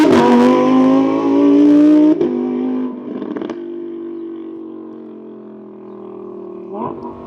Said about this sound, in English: The pops and bangs you get from this exhaust system is just something else.